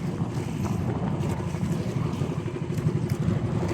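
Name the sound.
large outrigger boat (bangka) in big waves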